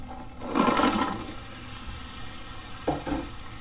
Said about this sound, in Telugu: ఇప్పుడు ఈ స్టేజ్లో మనము క్రాబ్ వేసుకుంటాము